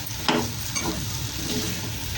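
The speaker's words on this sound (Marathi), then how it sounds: "आता मिक्स करून घेते सगळं दुधामध्ये" Modak coconut filling with semolina, cardamom and dry fruits is mixed in milk in a pan, with a light scrape near the start and a gentle steady sizzle.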